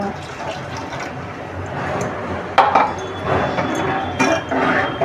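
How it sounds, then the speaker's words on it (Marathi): Water from ground spice paste splashes and pours into a pan in a few short bursts, with light clinks of a utensil against the metal. "वाटणाचं पाणी पण टाकू"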